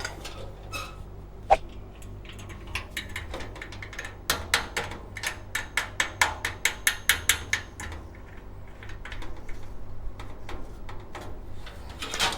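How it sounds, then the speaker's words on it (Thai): Nuts being tightened with a ratcheting tool while assembling a Coleman charcoal field grill, a run of about a dozen crisp, evenly spaced clicks at close range over a low steady hum, with no voices. "น็อตมันจะมีทั้งหมด 8 ตัวนะครับ ใส่ให้ครบ เพื่อความแข็งแรง"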